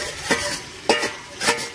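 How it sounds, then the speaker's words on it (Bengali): Fried potatoes added to a pan of peas and stir-fried for a mutton-fat ghugni, with three short scraping stir strokes over a faint sizzle. "আলুটা দিয়ে একটু কষিয়ে নেব।"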